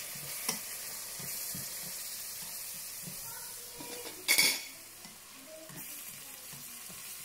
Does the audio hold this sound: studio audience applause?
no